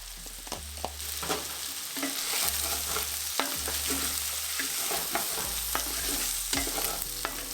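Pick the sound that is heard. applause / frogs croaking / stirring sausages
stirring sausages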